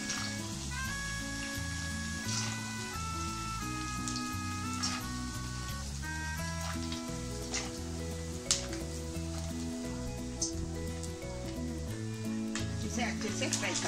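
Crushed garlic and groundnuts fry in hot oil with a soft, continuous crackle and sizzle that sits under louder background music and a voice.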